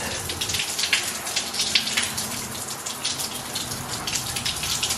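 Hot water pours steadily from a shower at a public campground bathhouse in snowy winter, a continuous close hiss of spray and splashing without pause and with no voices.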